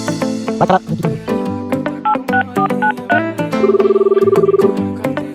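A phone is dialed with a run of short keypad tones, each note a quick beep, ending in a longer rapid pulsing tone, loud and clear with no speech.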